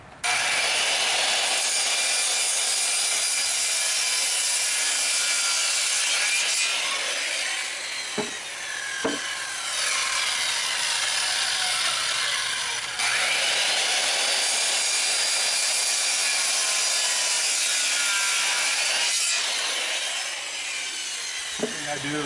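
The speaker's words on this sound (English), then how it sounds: "Set your saw to the angle, and then cut it." A saw cuts through a wooden board for a porch swing frame, a close, loud, continuous rasping whine with brief dips and restarts as the blade works through the wood.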